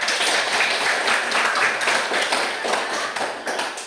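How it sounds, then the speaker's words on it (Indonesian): Classroom applause during a maths lesson, a group of students clapping hands in a steady, dense patter of taps that stays fairly loud for the whole few seconds, with no talking over it. "Nah, jawabannya betul, kasih tepuk tangan."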